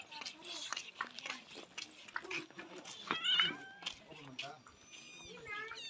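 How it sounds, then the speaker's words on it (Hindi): A cat meows a few times at close range, short mewing calls mixed with soft chewing or biting noises, while people talk nearby. "ये तुम्हारी बिल्ली है?"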